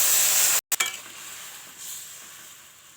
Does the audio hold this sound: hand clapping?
no